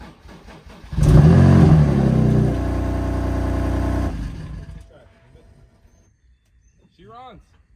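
A BMW F80 M3 being rebuilt after a salvage purchase cranks and fires up loudly, then flares into a brief rev and settles into a steady idle before shutting off. A voice briefly speaks near the end.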